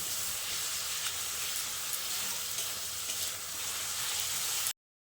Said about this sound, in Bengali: দিয়ে গুঁড়ো মশলাটাকে আলুর সঙ্গে খুব ভালো করে কষিয়ে নিচ্ছি